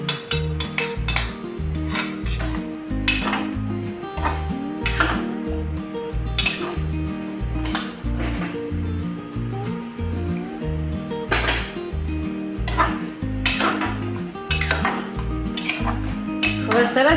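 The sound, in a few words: stirring rice, water and spices in a pot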